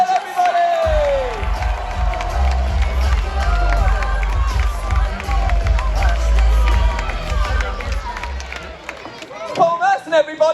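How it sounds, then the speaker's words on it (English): Crowd at a Butlin's football festival presentation cheering and clapping for former Arsenal and England footballer Paul Merson, a loud sustained roar of voices, whoops and applause with a dense low rumble throughout. "Let's have a massive cheer for Mr. Paul Merson, everybody!"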